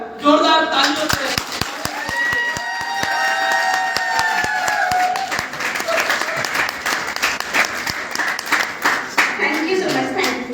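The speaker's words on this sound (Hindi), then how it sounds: "कर जोरदार तालियों से" A seminar crowd breaks into loud, sustained applause with sharp individual claps standing out; a voice speaks over it near the start and cheering rises within the clapping, which stays strong throughout.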